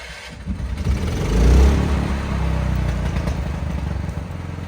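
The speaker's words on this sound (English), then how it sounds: "generator is running" A standby generator engine cranks and fires, surges briefly louder, then settles into a steady mid-pitched running hum at moderate loudness, no talk.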